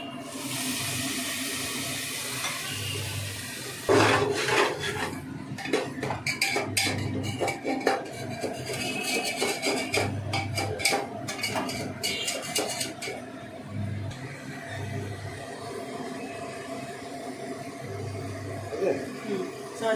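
Mutton spice masala fries in a pot, with water and oil added, under repeated clattering stirs of a metal spoon, a steady wet sizzle beneath loud, irregular scrapes.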